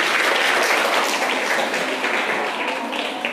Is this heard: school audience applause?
yes